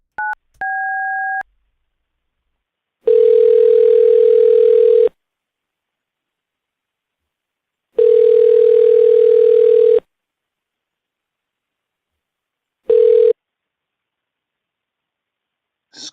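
Telephone tones while a caller is patched into a call: two short dial tone beeps, then three long, loud steady tone bursts separated by silence, the last one brief.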